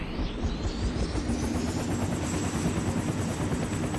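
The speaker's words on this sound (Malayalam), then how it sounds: "നമ്മൾ ഹെലികോപ്റ്റർ കയറിയിട്ടുണ്ട്." Helicopter in the Roblox game Barry's Prison Escape, a steady loud rotor and engine drone that holds evenly throughout with no talking.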